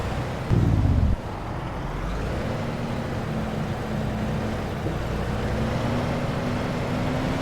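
A Cat CT660 XL truck drives in American Truck Simulator, its steady low engine drone running continuously with a brief louder thump near the start and a faint rising tonal whine underneath.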